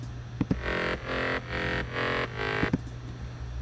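Layered progressive house synth lead stacking higher and lower octaves, one dirtier and one cleaner, playing a few sustained pulsing chords between short percussive hits, full and close with no talking.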